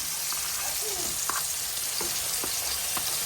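Spice paste sizzles steadily in hot oil in a pan, a continuous frying hiss with occasional light scraping stirs, close and even throughout.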